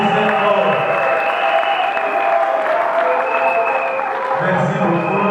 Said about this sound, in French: Veuillez vous mettre debout s'il vous plaît. Et applaudissez fort.